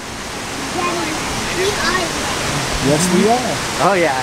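A waterfall at the Volcano Bay water park rushes as a steady broadband wash throughout, with people talking over it close by.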